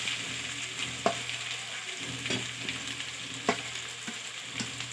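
Boiled, mashed potato being stirred in a frying pan for aloo kurma, giving a steady, close sizzle broken by a few distinct scraping stirs at irregular intervals.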